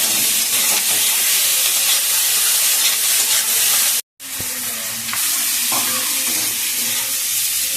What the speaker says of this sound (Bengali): এবার পেঁয়াজ লঙ্কা আলু রসুনগুলো ভাজা হয়ে গেছে